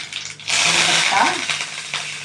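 Curry leaves hit hot oil in a pan, where mustard seeds and cumin are frying. After a quiet start, a sudden loud crackling sizzle bursts up and keeps going, with a faint voice briefly in the background.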